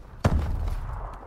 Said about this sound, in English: They're bombing.